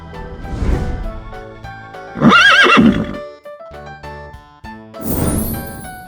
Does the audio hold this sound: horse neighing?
yes